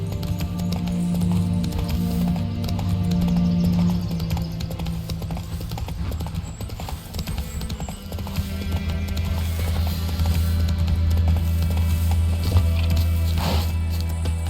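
Horse hooves clip-clop at a steady galloping rhythm in The Witcher game, loud and continuous, with occasional whinnies and a low droning background underneath.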